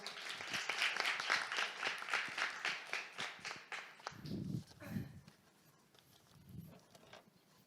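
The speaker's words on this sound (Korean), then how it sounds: "여러분 큰 박수로 맞이해 주십시오" A live audience claps loudly to welcome a youth local-problem-solving team onto the stage at a policy presentation event; the dense applause lasts about four seconds, then breaks off abruptly, leaving a quiet room with a few faint low thumps and footsteps.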